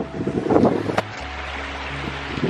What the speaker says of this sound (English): In this valley, it's a little windy.